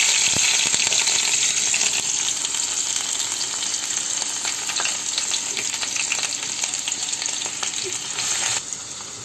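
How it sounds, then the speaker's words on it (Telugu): Green chillies and onions frying in hot oil in a kadai for a raw banana masala curry: a loud, dense, continuous sizzle with faint crackles, no voices, easing slightly near the end. "చూడండి వేగుతున్నాయి కదా."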